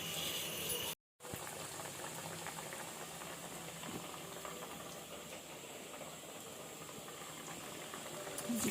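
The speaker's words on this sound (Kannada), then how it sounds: "ಕೊತ್ತ ಕೊತ್ತ ಅಂತ ಕುದೀತಾ ಇದೆ ಎಣ್ಣೆಯಲ್ಲಿ" Vada frying in hot oil during a home Shivaratri festival cook, a steady bubbling, sizzling hiss close by, broken by a brief dropout near the start and otherwise continuous with no voices.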